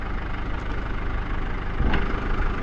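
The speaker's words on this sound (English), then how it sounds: "That's what it sounds like idling." An old tractor with an old-style gear transmission idles out of gear, a steady low rumbling drone that carries on evenly throughout, close by and moderately loud.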